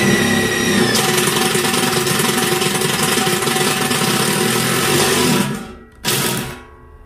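A power drill bores holes in a large gas cylinder being made into an upside-down wood stove, a loud, steady whine running continuously and up close, then cutting off with a brief restart before stopping.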